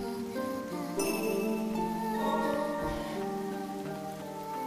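Rain falling in a town area of the video game Ender Lilies: Quietus of the Knights, a steady, even patter that continues throughout under soft tonal game music, with no speech.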